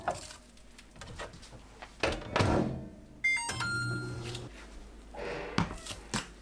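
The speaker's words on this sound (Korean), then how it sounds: "전자레인지에 4분 익힙니다." Thumps and clatter, then a door shuts and a series of electronic beeps gives way to the steady low hum of a microwave oven running, cooking soft tofu for four minutes, followed by more handling noises.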